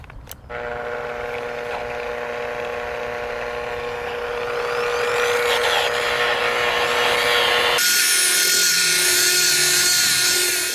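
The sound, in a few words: car paint polisher running at low speed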